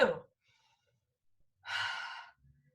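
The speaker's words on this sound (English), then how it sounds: "Let's take 3 deep breaths in." A single deep sigh-like breath is audible, taken by an instructor during a kids' exercise session: a brief breath at the start, then a longer airy exhale lasting about half a second, followed by quiet.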